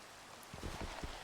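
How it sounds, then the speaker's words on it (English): Rain falls in Minecraft as a faint, continuous hiss, with a few soft low thumps joining partway through, distant and quiet with no talking. "I really want this rain to stop."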